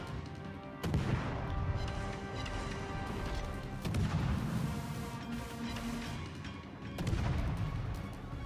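The Italian cruiser Venezia fires naval gun salvos in a warship battle game, three heavy booming blasts spaced a few seconds apart over a constant loud roar of engine and sea noise.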